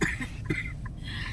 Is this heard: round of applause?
no